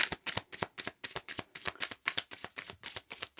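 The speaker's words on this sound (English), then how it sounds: "All right, last shuffle here." Tarot cards being shuffled by hand, a rapid run of crisp riffling bursts in an even, quick rhythm, close and alone.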